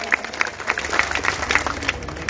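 Audience at a mushaira bursting into loud applause, dense clapping from a large crowd with a few sharper claps standing out, sustained for a couple of seconds.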